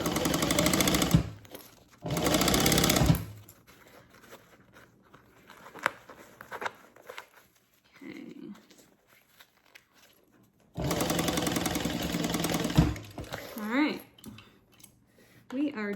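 A sewing machine back stitches a Denver double zip bag in two loud bursts, then a longer run later, with quieter handling sounds and a voice speaking between them.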